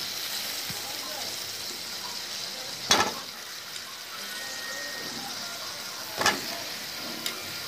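Beans and potatoes drop into a frying spice paste, giving a low sizzle with two sharp bursts as pieces hit the pan. Someone talks over the cooking.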